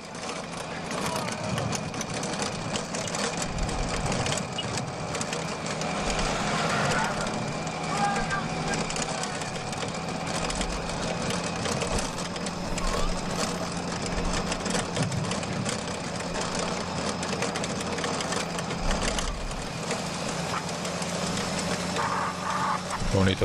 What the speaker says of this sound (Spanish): también estos ruidos que hacen las motos también en parte, no solo las bicicletas en este paso por los tramos eh, adoquinados de la carrera